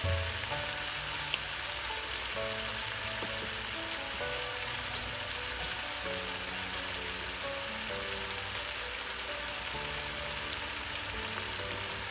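Boiled rice frying in a pan with ghee for veg fried rice, a steady close sizzle and crackle that runs without a break and sounds like light rain, with no voices.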